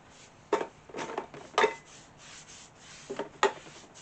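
A brush dabs and strokes finish onto an absorbent wooden piece being restored, producing soft, close scratchy brushing bursts in an uneven rhythm, separated by short quiet gaps.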